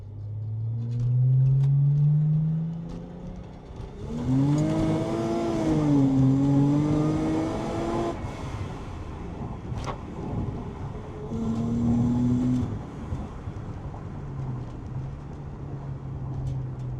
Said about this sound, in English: hopefully the car sounds good